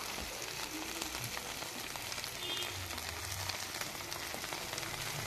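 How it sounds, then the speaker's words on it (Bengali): Cabbage paturi frying in a pan gives a steady, close crackling sizzle with dense spattering, running unbroken throughout with no voices. "এইভাবে আমি কিছুক্ষণ পর পর ভেজে নিচ্ছি"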